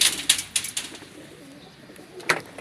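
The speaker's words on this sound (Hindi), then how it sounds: "ये है टैडी कबूतर जी।" A Teddy pigeon kept by a pigeon fancier makes soft, breathy coos near the listener, with a few short sharp sounds at the start, faint background hiss and a brief accent near the end. No speech is heard.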